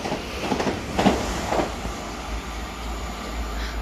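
A pair of Gatwick Express Class 387 electric trains passes through a station on the Brighton main line, a steady rolling rumble with a few brief rattles early on, fairly near and without speech.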